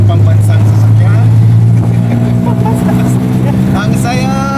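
Riding in a tuk-tuk through Bangkok, Thailand: a loud, continuous engine hum and revving with passing traffic and wind, while people talk throughout.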